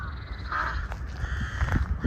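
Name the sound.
crows cawing near a cemetery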